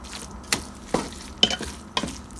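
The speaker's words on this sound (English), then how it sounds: "we're a couple minutes into browning the ground beef" Ground beef for stovetop chili browns in a pan with a soft sizzle under four evenly spaced, distinct scrapes of a spoon stirring the meat; close and fairly quiet, with no talking.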